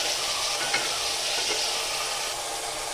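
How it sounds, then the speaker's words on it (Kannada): Carrots and beans fry with turmeric in a pan, a steady close sizzle with faint stirring scrapes running throughout, no voices. "ತರಕಾರಿ ಸ್ವಲ್ಪ ಬೇಗ ಫ್ರೈ ಆಗುತ್ತೆ, ಹಾಗಾಗಿ ಇವಾಗ ಇದು ಆಲ್ಮೋಸ್ಟ್ ಫ್ರೈ ಆಗಿದೆ"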